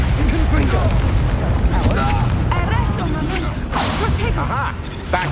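Confringo fire spell blasting in the Hogwarts Legacy video game during a fight, with loud booming explosions and whooshes layered over battle noise while voices speak.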